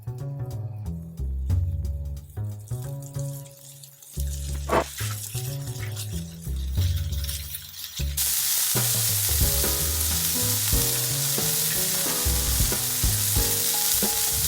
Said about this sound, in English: the next step in the process is to saute the scallops